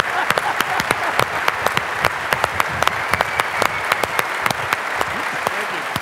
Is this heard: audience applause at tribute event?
yes